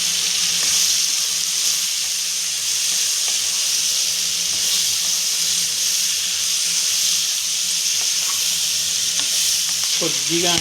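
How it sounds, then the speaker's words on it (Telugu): Chopped tomatoes with a little salt cook in a pan, giving a loud, even sizzle and hiss that runs without a break, and a brief scrape comes near the end. "కొద్దిగా మగ్గనివ్వాలి. పచ్చి వాసన పోయేంత వరకు సాల్ట్ అనేది కొద్దిగా వేసుకోవాలి టమాటోలన్నీ మగ్గడానికి."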